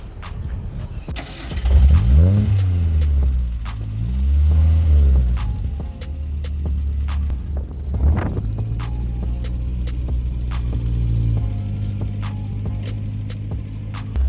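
A retro Mazda Familia project car cranks, fires and idles, then revs in swelling rumbling pulls, loud and close, with the engine settling into a steady low drone.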